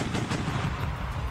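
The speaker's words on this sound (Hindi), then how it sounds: "रूसी सेना ने एक वीडियो जारी किया, जिसमें उनका एक टैंक अपने दुश्मनों पर ताबड़तोड़ गोलियां दागता नजर आया।" A Russian tank fires rapid bursts of gunfire at enemies, a dense, continuous rattle of overlapping shots heard at moderate volume.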